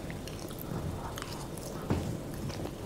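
Bites and chewing of a vegan Chinese dumpling filled with shiitake mushrooms, dipped in a little sauce, heard close and soft with one sharper bite partway through and no talking.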